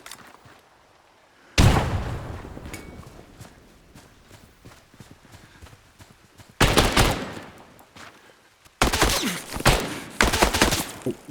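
Gunfire crackles in the video game Arma 3 alongside a frag grenade, with a heavy blast and three loud bursts of shots separated by quieter stretches of scattered pops and clicks.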